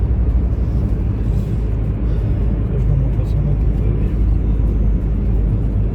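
Inside a moving car, a steady low road rumble fills the cabin while people talk.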